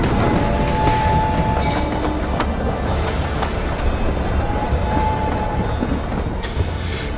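A train in the video game Voidtrain rumbles steadily as it departs, with a dense, continuous rolling roar and faint metallic squeals. The sound is loud and close and runs for the whole stretch.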